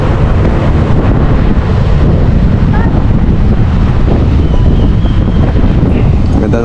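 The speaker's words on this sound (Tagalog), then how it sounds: "Lamig, malakas yung hangin, no?" Strong, cold wind buffets the microphone outside a church in Kailaway, a loud, continuous low rumble with no breaks that fills the whole stretch.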